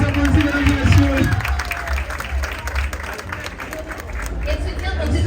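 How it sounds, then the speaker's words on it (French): An audience applauding, a sustained wash of clapping from a crowd with a voice speaking over it at the start, fading slightly and then swelling again. "On les applaudit, mesdames et messieurs."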